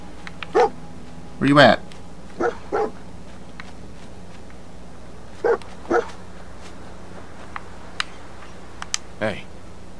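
Dogmeat, the dog companion in the game Fallout 4, gives several short barks and yips spread across the scene, with someone talking over and between them.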